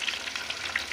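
Fish fries in hot oil that bubbles up, giving a steady crackling sizzle with scattered sharp pops, close and fairly loud, with no voices.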